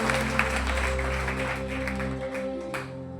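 A church congregation claps for Jesus during a Sunday sermon, a steady wash of applause close and full at first, then thinning and fading out toward the end.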